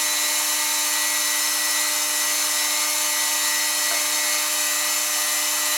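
A saw cuts balsa or wood stock for the stabilizer of a control line Thunderbolt model airplane, giving a steady, loud, continuous whine through the whole stretch with no talking.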